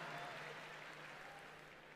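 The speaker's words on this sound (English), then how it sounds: "you can clap for yourselves." Large church congregation applauding themselves during a sermon by Pastor Francis Chan, a faint, distant, steady wash of clapping with no individual claps standing out.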